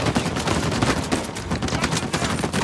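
Sustained turret fire in Uncharted 4, a dense, loud stream of rapid shots rattling without pause, close and overwhelming.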